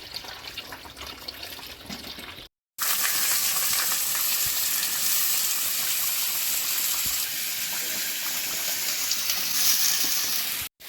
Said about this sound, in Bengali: এই কড়ায় আলু ভাজা হচ্ছে